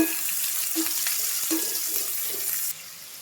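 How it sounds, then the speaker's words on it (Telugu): Onions with salt fry in oil in a pan, a steady close hiss of sizzling with faint scraping stirs, cut to a quieter fizz near the end. "మంచిగా లైట్ బ్రౌన్ కలర్ అయిన దాకా ఫ్రై చేసుకోవాలి"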